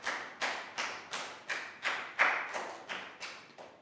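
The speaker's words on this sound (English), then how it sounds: "And round of applause for everyone" Schoolchildren in a classroom clap together in a slow, regular beat, roughly ten crisp synchronized claps, moderately loud and near, with no voices.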